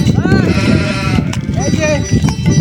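Goats bleating in a rural village setting, several rising calls close by over constant broadband crowd and ambient noise, with people talking throughout.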